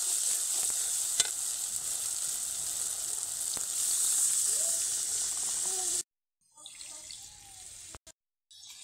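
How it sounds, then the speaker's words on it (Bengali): Water is poured into spice masala sizzling in a pan for a katla fish curry, a loud continuous hiss and crackle that cuts off abruptly, then returns more faintly in short bursts. "এবার দিয়ে দেবো জল।"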